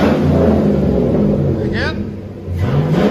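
A 2005 Chevy Silverado with a 5.3L V8 and straight-pipe exhaust rumbles loudly up close, its deep burbling idle dipping briefly and then rising again as a voice speaks over it.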